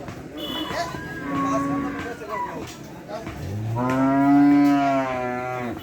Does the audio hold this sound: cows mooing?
yes